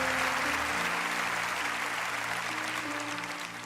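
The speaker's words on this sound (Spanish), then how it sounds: "dale un aplauso al Señor en esto" A church congregation applauding, a dense sustained wash of clapping from a large crowd that slowly fades toward the end, with musical tones underneath.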